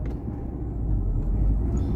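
A 2005 Subaru WRX wagon with an HKS downpipe cruising gently down the road, its low exhaust and engine rumble steady and close, blended with road noise.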